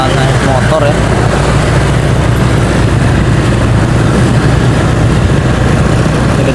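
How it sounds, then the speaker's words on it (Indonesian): A motorcycle engine hums steadily while riding, a constant low drone with wind and road rumble, with a person talking over it. "Kita naik motor ya."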